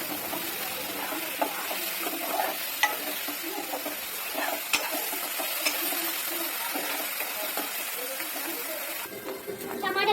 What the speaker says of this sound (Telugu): టమాటా వేగడానికి సాల్ట్ వేసుకోవాలి బాగా కలుపుకోవాలి